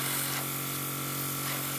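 A brief, steady hissing makeup airbrush test spray onto a tissue with a faint motor buzz underneath, continuous for a couple of seconds.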